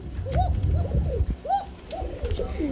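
Domestic pigeons at a bird market coo in repeated rounded calls, several birds overlapping close by in an uneven rhythm over a low background rumble.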